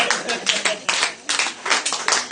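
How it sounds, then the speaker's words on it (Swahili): A church congregation at a Bible study and prayer meeting claps loudly together in bursts of rapid, irregular hand claps that keep going throughout. "Hebu tupigie Bwana makofi makubwa."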